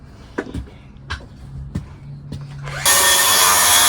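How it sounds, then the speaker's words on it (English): Knocks and clunks of work on a 2002 Holiday Vacationer RV give way to a power tool cutting through the floor to reach the fuel pump, which starts abruptly near the end as a loud, steady, harsh whine. "Don't mind that noise. He's just cutting up the floor to the fuel pump."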